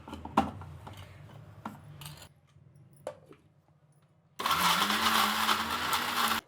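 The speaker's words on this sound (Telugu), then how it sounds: "ఇప్పుడు దీన్ని మిక్సీ పెట్టేద్దాం" A kitchen mixer grinder whirs into a loud, steady grind of masala with boiled beans after a few soft clinks and handling knocks, running on to the end.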